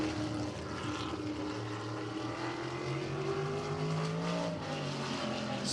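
Race car engine at a short-track speedway during a Little 500 qualifying warm-up lap, a steady droning roar that rises smoothly in pitch as the throttle is eased open, continuous and fairly loud throughout, with no talk.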